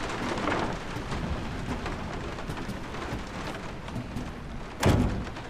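Heavy rain pours steadily during a thunderstorm in the video game Resident Evil 7, a dense hiss broken near the end by a sudden low thunderous thud.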